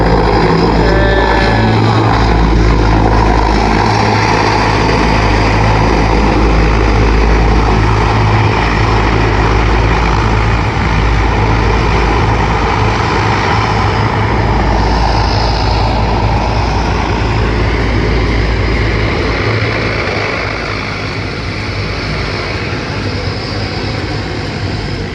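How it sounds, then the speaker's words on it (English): A propeller airplane at an airport roars steadily and loudly as it lands with engines in reverse thrust, a dense continuous drone with deep low rumble that eases slightly toward the end. "Very slow approach there, going into reverse thrust"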